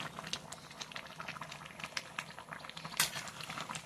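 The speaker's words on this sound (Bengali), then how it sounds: "এই যে ডাল আর একটু ফুটলে নামিয়ে দিব।" Mixed mung and masoor dal tempered with bay leaf, dried chilli and panch phoron boiling in a pot, soft bubbling and popping with occasional louder pops, quiet and close, no talk.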